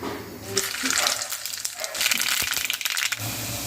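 Spice paste (vaatan) for a gram-leaf gravy sizzling and frying in hot oil, a steady close crackle with bursts of spattering and occasional stirring scrapes.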